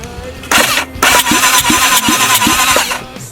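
Engine on a hand-built bulldog being cranked over with oil in the cylinders to test compression, giving a loud rhythmic chugging of about six evenly spaced compression pulses over a steady starter whir, close up with no talk.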